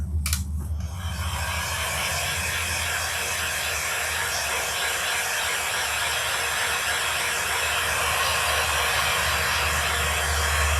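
A hair dryer blasts quick-drying paint on a handmade lavender door hanger, a steady, loud, close whooshing roar with a low motor hum that starts after a brief click and runs unbroken to the end.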